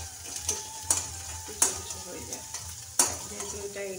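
Egg chow mein fries in a pan over a raised gas flame, a steady sizzle broken by several sharp scraping clacks of a spatula as the noodles are stirred, close and fairly quiet.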